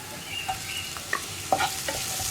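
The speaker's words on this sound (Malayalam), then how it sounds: "ഇതിലേക്ക് തക്കാളി ചേർത്ത് കൊടുക്കുക." Tomatoes tipped into a hot frying pan of spices and coriander powder for a green pea curry, then stirred: a steady close sizzle with scraping stir strokes and a few sharper clatters, no talking.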